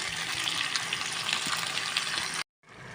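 Chicken sukka fries in a pan over a high gas flame, giving a steady loud sizzle that cuts off abruptly near the end.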